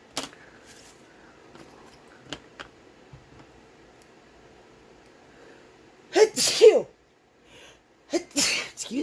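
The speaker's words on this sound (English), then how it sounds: "I'm gonna sneeze in your ears." A person sneezes loudly and close by, two sharp bursts near the end, after a quiet stretch of faint handling ticks at an ink-stamping craft table.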